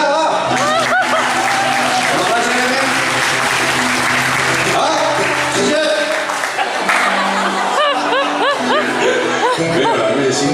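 Wedding guests clap steadily as the groom enters the reception hall, a loud, continuous patter of applause with some chuckles and chatter mixed in throughout.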